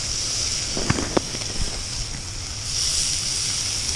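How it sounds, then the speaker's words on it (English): Wind blowing across the ice during ice fishing, a steady close rush of noise with microphone buffeting that swells near the end, plus a few faint knocks. "The wind is starting to die down."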